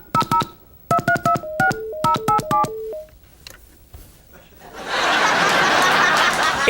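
A prop telephone is dialed, giving a quick run of bright touch-tone beeps in bursts. Laughter and chatter follow, ending in a loud, noisy wash of crowd sound.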